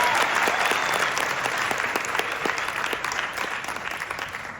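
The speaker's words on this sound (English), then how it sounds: "So it's a big round of applause for you." A full audience bursts into sustained applause for a film panel at a cinema event, dense clapping from many hands that carries steadily and gradually tapers off, with no one speaking over it.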